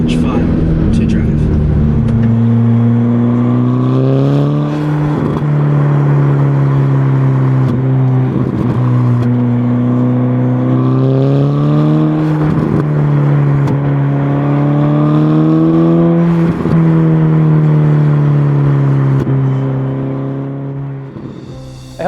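A 2021 Ferrari Roma drives with its engine rising and falling through repeated revs and upshifts, a loud, close harmonic engine note climbing in pitch, with some speech mixed in.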